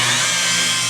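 A rotary buffer whirs steadily and loudly, polishing glaze into the paint of a 1953 Studebaker mounted on a rotisserie, with a continuous even drone and no breaks.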